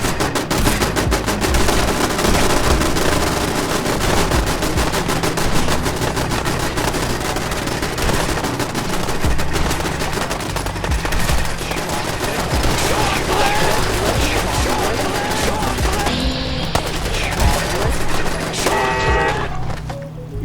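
Dense, sustained gunfire crackles through a Fallout 4 battle, rapid automatic bursts and overlapping shots forming a loud, continuous barrage with brief pops standing out near the end.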